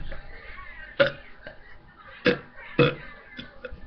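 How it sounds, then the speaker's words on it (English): Several short burps after drinking lemonade, three prominent gulping eructations spaced apart with a few smaller throaty sounds in between, close and fairly loud. "I can burp for ages"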